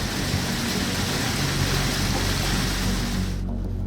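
Heavy hail and rain pounding down from a thunderstorm core during a storm chasing tour, a dense, steady roar of hard impacts that holds loud and constant before cutting off abruptly near the end.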